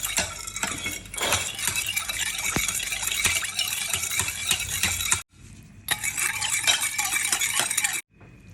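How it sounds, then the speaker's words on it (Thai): Utensils stirring and tossing a glass noodle salad with pork sausage and minced pork in a bowl, close clinks and scrapes in a busy irregular rhythm, broken by two brief pauses. "คนเลยจ้า"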